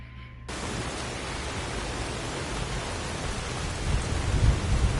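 Heavy rain pours steadily over the sea in the game Skyrim, a dense roaring hiss that starts abruptly and carries on alone, with low rumbling thunder swelling toward the end.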